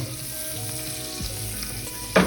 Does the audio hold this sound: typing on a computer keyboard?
no